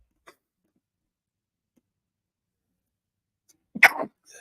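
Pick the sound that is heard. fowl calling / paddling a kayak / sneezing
sneezing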